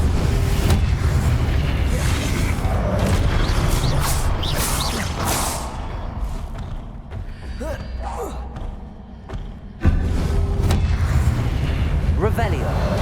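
Incendio and Confringo spell blasts in Hogwarts Legacy, dense loud whooshing fire and booming bursts layered over game ambience, dipping briefly before a sudden strong impact renews the roar.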